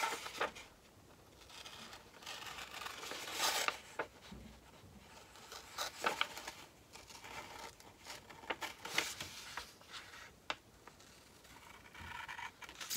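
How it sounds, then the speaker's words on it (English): Scissors cutting a page out of a book's copyright page, heard as repeated crisp snips and papery rustles close by, irregular over the whole stretch with no talking. "sadly you're going to have to watch me cut it out"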